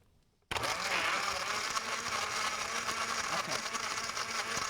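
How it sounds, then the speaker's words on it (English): A kitchen blender starts abruptly and runs steadily, whirring loudly while blending slush, a continuous close motor drone with slight fluctuations as the ice breaks up. "Okay, I'm going to run the blender."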